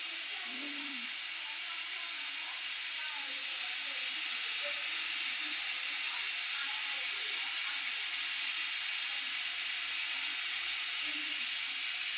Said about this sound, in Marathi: असे वाफ काढून घेते तुम्हाला